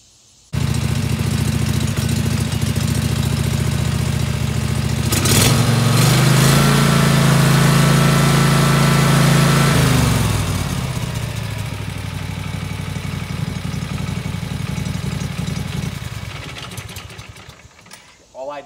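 A Kawasaki engine on a DR brush cutter idles loudly after a carburetor replacement and idle-mixture adjustment, its steady chugging drone rising briefly to a higher pitch in the middle and then settling back before cutting off at the end.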